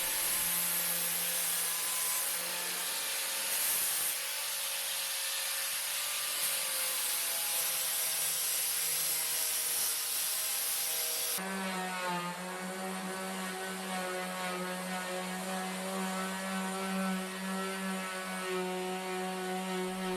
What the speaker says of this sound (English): Then I tried leveling it a bit with angle grinder sanding disc.